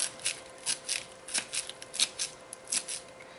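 Fresh cilantro is sliced on a board for a vegetable crunch salad, a quick series of soft, crisp crunching cuts in an uneven rhythm, close and fairly quiet.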